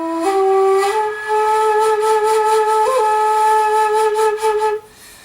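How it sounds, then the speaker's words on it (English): A quena, the South American notched flute, plays a sustained melody of long, breathy held tones with a few clear step changes in pitch, close and loud, ending in a short fade. "This is called a quena. It's from South America"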